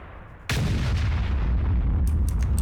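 A tank cannon fires once in World of Tanks, a sudden loud close boom with a long rumbling tail, followed by faint clicking interface sounds near the end.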